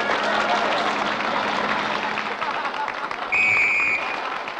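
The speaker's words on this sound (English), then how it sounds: "Okay, audience, applaud" Circus audience applauding for a clown act, a steady wash of clapping from a crowd under a lively announcer's voice, with a short whistle-like tone near the end.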